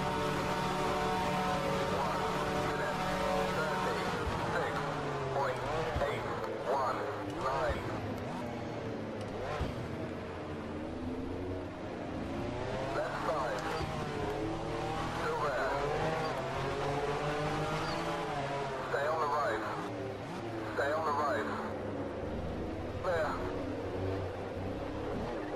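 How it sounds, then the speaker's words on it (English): NASCAR Racing 2003 race car engine screaming on track in the Timex 24 Hours race, a sustained, harmonic-rich roar whose pitch climbs and drops with gear changes and corners, mostly steady, with other cars whining past now and then. "I can hear his engine just screaming behind me"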